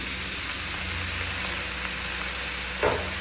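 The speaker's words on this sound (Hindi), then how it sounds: "सबसे पहले ये सोया सॉस डाल रहे हैं हम।" Soy sauce poured into a pan of frying vegetables for street-style veg Hakka noodles, giving a steady close sizzle throughout with a brief louder spatter near the end and no talking.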